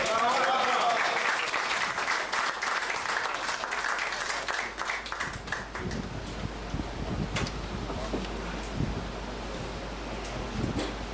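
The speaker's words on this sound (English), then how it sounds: "Y'all give that brother another round of applause." Audience applause at a 2006 tribute event fills the room, dense and steady at first, then thinning into scattered claps with some voices and background noise.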